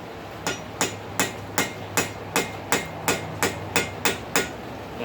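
Steady, evenly spaced hammer blows on metal, about twelve ringing strikes over a low background hum, close and fairly loud.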